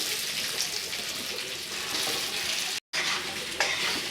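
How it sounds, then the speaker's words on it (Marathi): Baked wheat batis shallow frying in a pan give a loud, continuous hissing sizzle, close up, with a brief dropout and a small scrape as they are stirred. "ह्या आपण ज्या बट्ट्या काढून ठेवल्या आहेत त्या आपण यात कलसायला टाकून द्यायच्या"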